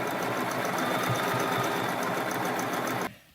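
Sewing machine stitching steadily as it tacks elastic across a garment shoulder, a fast even mechanical whir with rapid needle ticking that runs continuously, then stops abruptly near the end.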